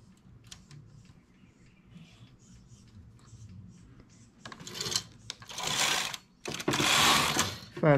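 Hand-operated knitting machine carriage sliding across the needle bed while knitting rows of a top with a side opening, a soft rasping sweep that grows into loud back-and-forth passes near the end.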